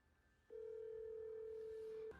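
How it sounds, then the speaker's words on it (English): A telephone call ringing through to a childcare center's number in Minneapolis, Minnesota: one steady, sustained ringback tone at moderate volume lasting about a second and a half, followed by a click as the line connects. "Now, listen to where this phone number goes to when you call this childcare center."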